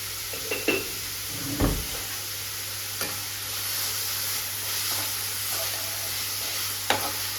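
Ingredients for sambar sauté with salt in a pan. A steady close sizzle carries a few utensil scrapes and knocks against the pan, with no one speaking.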